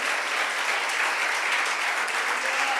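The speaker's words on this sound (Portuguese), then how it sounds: "Você pode aplaudir o nome de Jesus?" A church congregation applauds during a Portuguese-language sermon, a dense, steady wash of many hands clapping at once, loud and continuous for the whole stretch with no speech over it.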